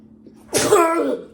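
A single sharp sneeze, loud and close, after a brief quiet moment.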